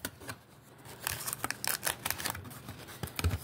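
Scissors snip and crinkle through foil sports card packs for football and wrestling cards, a quick series of close, crisp cuts and rustling plastic with no talking.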